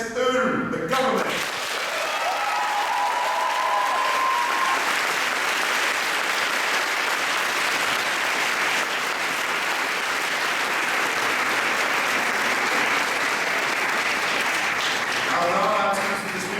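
An audience at a French debating final, the Covenant Trophy, applauds the proposition team from ENS Ulm with sustained loud clapping, and a voice is heard briefly at the start and end.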